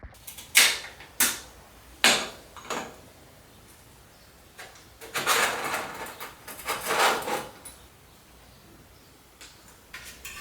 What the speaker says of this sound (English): So we'll get the saddle on and get it on the bike now.